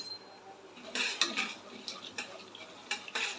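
Mustard seeds and urad dal crackle and sizzle in hot oil in a pan, with scattered sharp popping bursts over a faint steady hiss, close and fairly quiet.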